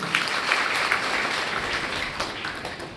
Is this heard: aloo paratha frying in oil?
no